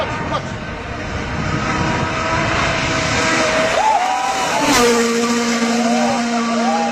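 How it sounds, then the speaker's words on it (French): Rally car driving past on a road or track, its engine a loud, steady roar that rises and falls in pitch as it passes, with continuous broadband noise throughout. "voici quelques vidéos qui montrent la puissance des voitures de rallye lorsqu'elles passent dans les routes et les chemins"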